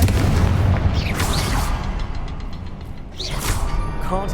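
A Confringo spell explodes in Hogwarts Legacy with a loud rumbling blast that decays slowly, followed by crackling magical whooshes and a second burst of sparkling energy near the end.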